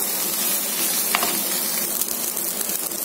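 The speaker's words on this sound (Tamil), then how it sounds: "இதை நல்லா கிண்டி விட்டுருங்க." Poha upma being stirred in a pan over a low flame, giving a steady close sizzle of frying with occasional scraping strokes throughout, no voices.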